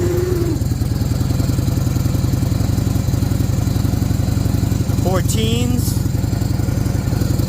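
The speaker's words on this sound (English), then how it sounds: "when you fire the bike up" A Harley-Davidson Shovelhead motorcycle engine running nearby with a steady, loud, lumpy idle throughout, while someone talks over it.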